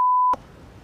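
Steady censor beep, a single pure tone held for about a third of a second, loud and alone, then cut off into quiet room noise.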